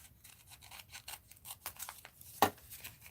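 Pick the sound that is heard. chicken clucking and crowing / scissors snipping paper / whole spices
scissors snipping paper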